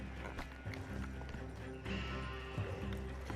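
Horses gallop with rapid, pounding hoofbeats in Red Dead Redemption 2, busy and fairly close, with a faint whinny and muffled voices beneath.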